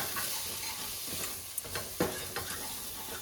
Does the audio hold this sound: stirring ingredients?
yes